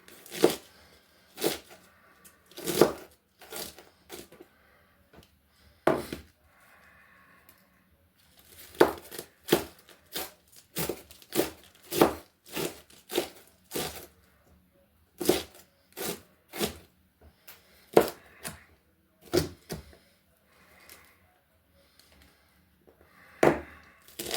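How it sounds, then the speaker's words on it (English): A knife chops leftover cabbage leaves for sauerkraut on a board, with sharp, distinct thuds in irregular clusters separated by short pauses, close and clear without talk. "So now we got some leaves left over. Cut them up."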